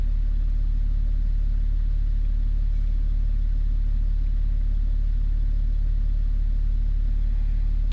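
A 2011 BMW X5 engine runs at a steady idle, a constant low rumble with an even hum and no change in pace throughout, heard up close with no talk.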